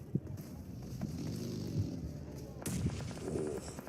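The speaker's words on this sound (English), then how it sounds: "Nades on target." Grenades burst in a PUBG Mobile esports match, a string of thudding in-game explosions and gunfire, with one sharp loud blast partway through, under an excited caster's commentary.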